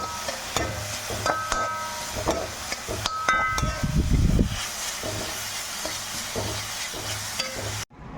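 Puttu flour being mixed by hand with salt and ghee: a steady, close, granular rustling and scraping with a brief louder stir partway through, and no talking.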